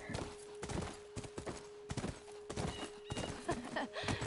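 A horse in The Last of Us Remastered clops steadily at close range with a faint whinny, over a continuous hum and sparse game effects.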